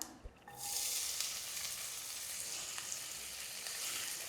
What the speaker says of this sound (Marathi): इथे कांदा तेलामध्ये चांगला परतून घ्यायचा आहे